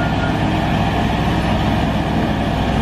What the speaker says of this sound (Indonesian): Wow, lihat ada mobil truk molen besar.